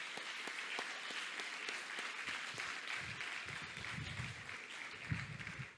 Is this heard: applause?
yes